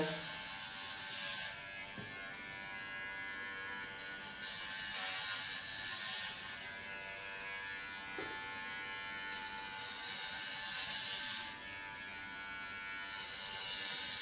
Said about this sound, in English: I'm going to work with the latest clipper of Gione